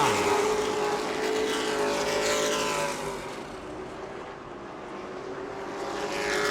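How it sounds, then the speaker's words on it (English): A race car streaks past the start-finish line during a New Smyrna Hoosier Series short-track race, its engine roaring loudly up close and then fading a little as it moves away, with no talk. "Jason Vale just streaks by the start-finish line"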